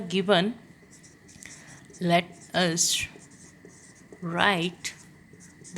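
Equations written by hand with a pen on paper: soft, scratchy strokes at close range, coming in short bursts between and beneath a teacher's spoken explanation.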